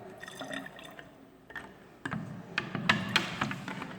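Vinegar poured into a homemade liquid fertilizer mix for plants, a faint close trickle with small drips and splashes that builds to a fuller pouring sound near the end.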